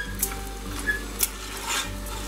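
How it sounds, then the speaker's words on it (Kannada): Spoon stirring a pongal mixture with grated coconut in a pan, scraping and clinking in short strokes over a soft steady sizzle, close and fairly loud with no voices. "ಇದನ್ನ ಮಿಕ್ಸ್ ಮಾಡ್ಕೊತೀನಿ."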